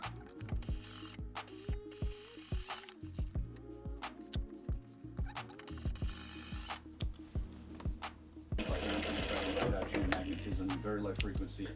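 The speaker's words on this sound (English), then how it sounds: "We're going to stitch that down" A sewing machine stitches down the folded top edge of a hoodie pocket, giving a rapid rhythmic mechanical thumping that runs steadily, then turns to a denser whirring burst near the end, close and fairly loud.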